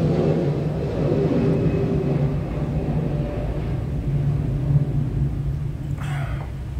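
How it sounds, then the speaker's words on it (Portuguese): A low, steady rumble of an airplane engine drones overhead throughout, moderately loud and distant, with a faint brief hiss near the end. "Olha lá o avião de novo."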